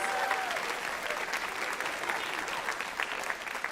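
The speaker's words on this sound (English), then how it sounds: "Can we get another round of applause for these awesome graduates who have earned so many awards?" Sustained, dense applause from a large audience honouring graduates at a 2025 awards and commencement ceremony, even and continuous throughout with no voices standing out.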